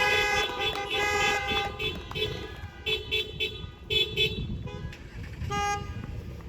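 Car horns honking at a drive-in college commencement, a ragged series of overlapping toots and longer blasts from several vehicles, fairly near, with faint voices underneath.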